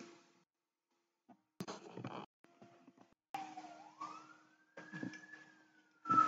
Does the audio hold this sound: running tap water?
no